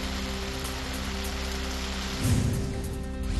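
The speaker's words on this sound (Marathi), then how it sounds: "ठाण्यामधील शहापुरात जोरदार पाऊस।" Dense, steady hiss of heavy monsoon rain pouring down in Shahapur, Thane, close and unbroken, with a low rumbling hum underneath.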